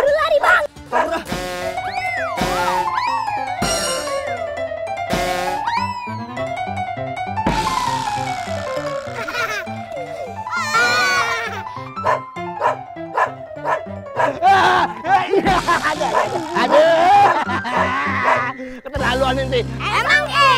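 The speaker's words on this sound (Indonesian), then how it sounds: "Bang, ada guguk tuh." A cartoon dog barks and yips repeatedly among lively animated action, the barks interleaved with excited character voices and effects at steady volume.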